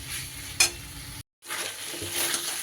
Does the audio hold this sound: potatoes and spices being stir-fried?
yes